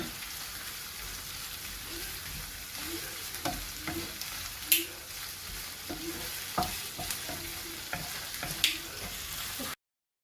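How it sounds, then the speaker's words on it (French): Shrimp sautéing and sizzling in a pan, a steady frying hiss with occasional stirring scrapes and clinks, close and moderately loud, no talking. "là je fais sauter mes crevettes"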